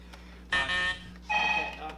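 A quiz show buzzer at a BoroughCon 2017 quiz event sounds twice in quick succession, two short loud electronic tones close by and standing out clearly over a quiet room.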